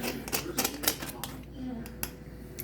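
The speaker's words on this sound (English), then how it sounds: "I'm just gonna trim some of this excess fabric off" Several quick crisp snips of scissors trimming excess fabric while sewing a tote bag, close and fairly sharp, clustered early and then spaced out, with a voice talking underneath.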